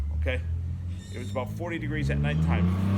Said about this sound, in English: Sorry about the car traffic behind us